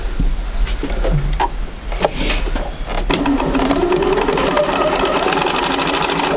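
Steady, close sewing machine running a quarter-inch seam on quilt sampler pieces, continuous whirring stitches for several seconds with light handling clicks at the start.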